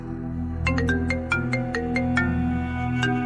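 A phone ringtone for an incoming call plays as a repeating electronic melody of bright pulsed tones, clear and fairly loud over a steady low background hum.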